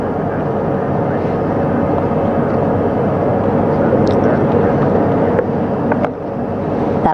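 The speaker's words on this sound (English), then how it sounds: "That first helicopter now on its way back to the ship here." A steady, loud mechanical drone of a recovery helicopter flying back to a ship after a splashdown, continuous throughout with some wind buffeting, with faint voices under it.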